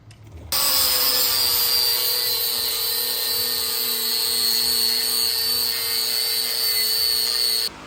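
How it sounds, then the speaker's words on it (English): A power sander sands a cut engine plate for a Manco Dingo go-kart build, switching on after a brief quiet start and running steadily, a loud continuous whine with a gritty, rasping edge, close by. "Now I put the sander on to sand it."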